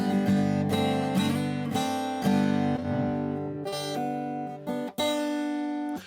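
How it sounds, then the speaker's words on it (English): Acoustic guitar strummed in open G tuning, full chords struck repeatedly in a steady rhythm with ringing sustain, close and fairly loud, no talking. "And they sound great if you strum them."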